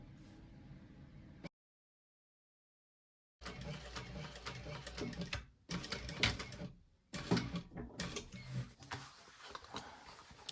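Sewing machine running in bursts while top-stitching a Gabriella handbag, a dense mechanical whir broken by a long pause and brief stops between runs.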